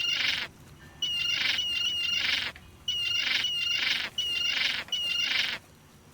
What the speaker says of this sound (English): Seagulls can be quite frightening.